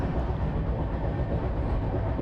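Steady broadband rumble inside an air-conditioned Indian railway coach on a journey toward Mumbai, a constant running noise with no distinct clicks, heard alone and fairly close throughout.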